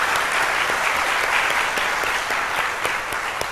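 An audience claps in a sustained, dense round of applause, steady and fairly loud throughout with no voices over it.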